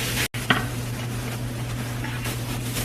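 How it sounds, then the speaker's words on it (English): Chopped onion hits a hot skillet with a sharp hiss, followed by a steady frying sizzle heard up close over a constant low hum. "I'm going to go ahead and add the onions. 1 small onion, you guys. And you add it just right on to the skillet"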